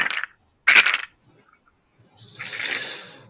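A percussion shaker made from gas stove knobs gives two short, sharp metallic rattles, a pause, then a longer rattling shake that fades out. The sounds are close and clear with silence between them.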